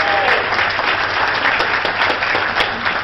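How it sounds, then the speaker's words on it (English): Audience applause at a memorial breakfast, dense sustained clapping from a large crowd filling the room at an even level throughout. "So let's give him a round of applause."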